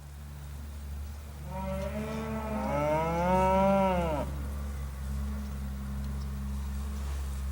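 A heifer gives a single drawn-out moo lasting about two seconds, fairly close and clear over a steady low background hum.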